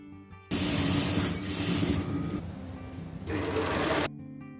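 A sewing machine runs steadily for about three and a half seconds while stitching a pajama hem, a loud, close, continuous rapid whir that starts and stops abruptly.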